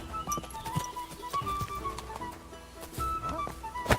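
Horse hooves clip-clop in an uneven rhythm while the horse is ridden in the video game Kingdom Come: Deliverance II. The hoofbeats are fairly close and mix with faint game ambience and a few tonal chirps.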